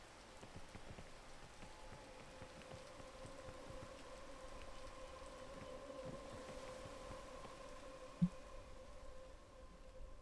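Steady rain in the video game PEAK, a soft even hiss of drops on surfaces lasting throughout at a fairly faint level, with a single sharp tap near the end.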